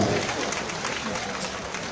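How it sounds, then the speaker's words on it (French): An audience at a celebration in Koumassi, Côte d'Ivoire applauds in a sustained, dense roar of clapping, with crowd voices and chatter blended underneath. "Est-ce qu'on peut applaudir pour toutes ces belles moments ici présentes ce soir?"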